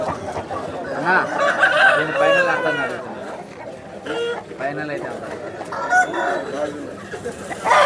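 A rooster crows at the Vijayawada chicken market on a Sunday, loud and close, with a few drawn-out calls mixed with clucking and people talking nearby.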